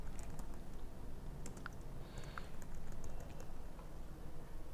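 A password being typed on a computer keyboard: quiet, fairly brisk key clicks in irregular runs over a low steady room hum, with no voices.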